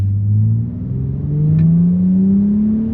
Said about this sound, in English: One thing about this car is the road noise is a little loud